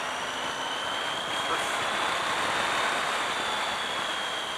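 A Triumph Tiger 800 XCx motorcycle engine drones steadily while riding, a loud continuous roar mixed with wind rush, with a rider talking over it.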